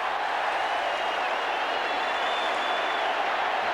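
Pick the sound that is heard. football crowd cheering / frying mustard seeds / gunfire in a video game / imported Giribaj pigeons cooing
football crowd cheering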